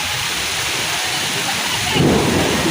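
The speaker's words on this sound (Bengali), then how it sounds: "ঘুরি ঘুরি বৃষ্টি পড়তেছে অলরেডি" Heavy rain pours during a Kalbaishakhi storm in a village, a dense steady wash of noise with a rumbling low end that swells louder near the end.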